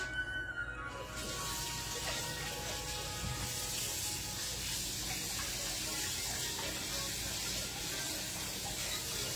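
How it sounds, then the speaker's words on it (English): A pot lid is rinsed under a running kitchen tap, a steady close rush of water spraying and splashing continuously after a brief quieter start. "I gotta go rinse off that delightful thing I call a lid"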